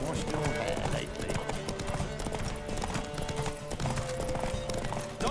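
Rapid hoofbeats of a galloping horse during a race in The Witcher 3, a steady drumming rhythm running under game music and intermittent voices.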